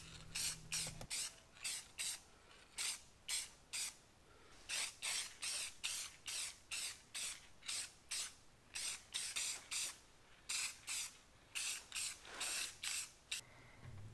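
Rapid bursts of matte clear spray paint hiss onto bare steel that was wiped down with acetone, about twenty short, evenly spaced sprays in a steady rhythm, close and fairly loud, with no talking.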